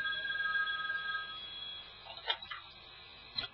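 A telephone rings softly in the background, a thin steady electronic tone over a few seconds that fades, with faint clicks near the end.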